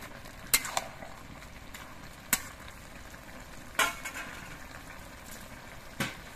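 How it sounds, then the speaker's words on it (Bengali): Fried fish heads being stirred and mixed into a pan of cooked-down bottle gourd, a few sharp scraping knocks of the spatula spaced over a quiet simmering background, close and alone. "মাছের মাথাটা দিয়ে নেড়ে চেড়ে মিশিয়ে দেব"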